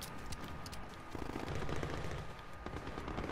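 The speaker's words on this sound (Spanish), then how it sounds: "Tiroteo, brother." Gunfire in Call of Duty: Warzone, a Modern Warfare battle royale game, as bursts of shots and rapid machine-gun fire crackle steadily through a dense, noisy mix for the whole stretch.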